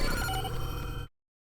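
A short notification bell ringtone chimes loudly for about a second and then cuts off into silence.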